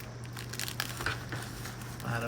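Scissors snip through crinkly bubble-wrap packaging while a Shopee-bought ZTE U50 Pro 5G portable Wi-Fi router is unboxed, with a steady run of crackling and crumpling plastic under faint voices nearby.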